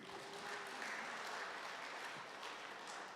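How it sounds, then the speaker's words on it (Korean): A church congregation applauds steadily at a women's missionary association opening worship service, a soft, even patter of many hands heard from some distance. "박수도 한번 쳐주시고요."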